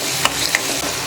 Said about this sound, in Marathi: ते पण आता व्यवस्थित असं ढवळून घ्यायचं आहे।